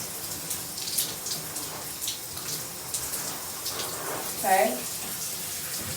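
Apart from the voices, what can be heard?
shower water running while wetting hair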